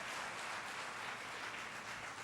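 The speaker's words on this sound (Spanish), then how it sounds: "¿Qué tal si le das un aplauso a nuestro Dios?" Congregation clapping together in a church service, a steady, dense wash of applause filling the room with no voices over it.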